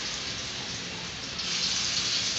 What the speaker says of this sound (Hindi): ये पकौड़े इधर फ्राई हो रही हैं।